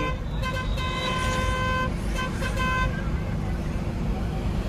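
Two sustained car horn blasts sound in a traffic jam on Shikrapur road, the first about a second and a half long and the second shorter, over a steady low rumble of idling engines and road noise.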